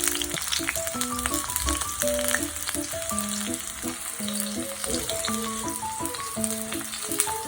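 Onions sizzling in hot coconut oil for a beef curry, a continuous close crackle of frying with music playing over it and no talking.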